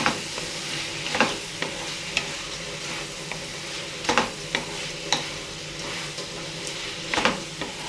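Tomatoes hit hot oil in a pan for an eggplant curry, giving a steady sizzle with repeated sharp scrapes and clinks of a spoon stirring against the pan, close and clear with no talking.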